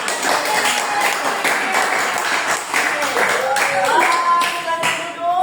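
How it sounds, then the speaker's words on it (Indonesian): Clapping from a group of classmates after a class presentation, a few sharp claps over a busy room with voices talking throughout, moderately loud and close. "Dan ini tepuk tangan ya"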